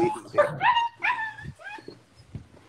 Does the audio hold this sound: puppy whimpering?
yes